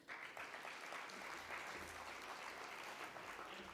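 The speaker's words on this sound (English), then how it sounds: "Let's give another round of applause." Steady applause from a crowd, continuous clapping that fills the whole stretch at a moderate distance with no voices on top.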